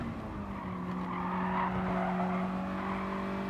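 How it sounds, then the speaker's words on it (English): A Mazda Roadster touring car in Gran Turismo Sport at Mount Panorama skids with sustained tire squeal over a steady engine drone, fairly quiet and continuous. "So you have another car spinning out to the last corner."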